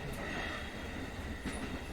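Train running on rails in the visual novel Fatal Twelve, a steady low rumble with faint rhythmic wheel clatter and a continuous mechanical hum, moderately quiet and uninterrupted.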